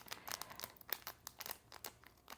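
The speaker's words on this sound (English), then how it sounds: "I'm kind of putting them in a dryer sheet before I throw them back into a plastic bag" A plastic bag and dryer sheet are crinkled and handled up close, producing soft irregular crackles and rustling bursts that come in quick uneven clusters at low volume.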